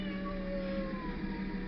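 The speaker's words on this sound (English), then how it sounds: "Oh, that's my cat." A cat's steady, drawn-out mewling cry holds over a low background hum, fairly faint and alone with no talk.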